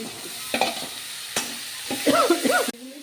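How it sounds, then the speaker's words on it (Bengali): Fried eggplant and tomatoes being stirred in a pan, a few scraping clatters of the spoon over a steady sizzle, close and fairly loud, with a sharper squeaky scrape near the end. "ভেজে রাখা বেগুনগুলি দিয়ে দিচ্ছি, সঙ্গে টমেটোগুলো দিয়ে দিচ্ছি।"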